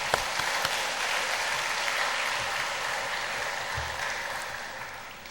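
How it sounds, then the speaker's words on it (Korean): A congregation at a Korean church's Wednesday worship service claps in sustained applause, dense and even, then slowly fades. "박수 한번 해주시겠습니다"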